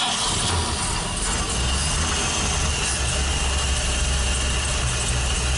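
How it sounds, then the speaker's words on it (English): An old Chevrolet truck engine runs at a steady, low idle, a continuous rumble close by with no talking over it. "So old Chevrolet will fire back up."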